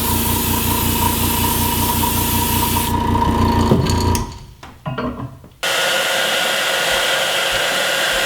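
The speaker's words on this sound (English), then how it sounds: "Alright, we'll blow dry it again." A hair dryer blows a loud, close, steady roar over a freshly painted crankbait lure, cuts out briefly with a few handling knocks, then starts again and keeps running.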